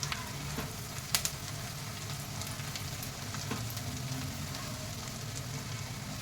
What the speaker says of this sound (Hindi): हम इसमें टमाटर डाल देंगे।